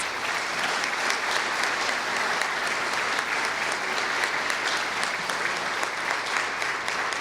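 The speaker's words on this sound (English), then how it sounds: "Let's please give all of these amazing women a round of applause." Steady, even applause from an audience at a 2014 women's community awards event, a continuous wash of clapping at moderate distance that holds at a constant level throughout.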